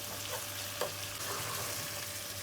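Whole red and green chillies frying in hot oil in a pot, a steady bright sizzle with a couple of stirring clunks, close and loud with no voices.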